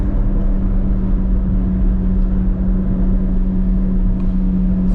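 Chevrolet Corvette C8 Z06 engine from inside the cabin, a steady loud low drone with a constant hum, cruising evenly without talk.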